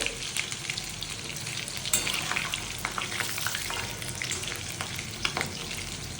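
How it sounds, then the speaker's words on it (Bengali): Chital fish pieces fry in hot oil with a loud, steady sizzle close up, full of crackling pops and spatters throughout. "আমি মাঝখান দিয়ে কেটে কেটে তারপরে তেলে ভাজছি"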